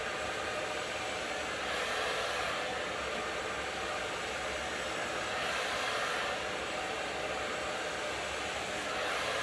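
A hair dryer blows steadily while long hair is blow-dried with a brush for volume, a constant close rushing whoosh that swells slightly as the dryer moves.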